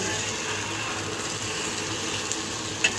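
Shrimp and egg sizzle in a hot pan while being stirred, a steady crackling hiss with a faint scrape near the end, no voices.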